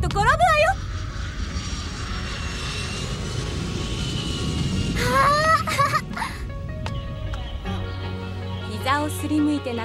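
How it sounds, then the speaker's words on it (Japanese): A fixed-wing airplane passes overhead, its engine roar swelling and fading as a broad drone, while a voice and other voices speak over it and music-like tones appear toward the end. "ママほら飛行機"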